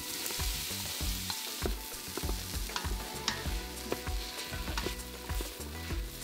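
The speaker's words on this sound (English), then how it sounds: "melt the butter and add the garlic and onions. Saute until the onions are soft and translucent." Garlic and onions saute in melted butter in an Instant Pot, giving a steady close sizzle broken by frequent scraping and clacking from stirring.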